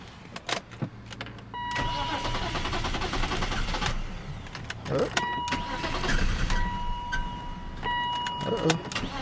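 A BMW E39 car being started after a repair, with engine cranking and running through the clip, steady mechanical noise and a few short tonal whines, plus brief clanks; people speak in the background.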